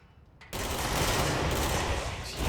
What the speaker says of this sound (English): so many rockets.